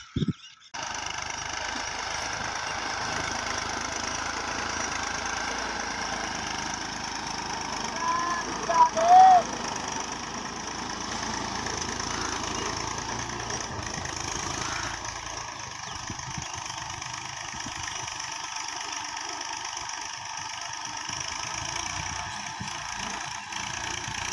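A tractor engine runs at a steady low idle as the tractor moves slowly, a continuous mechanical drone with a brief louder burst partway through.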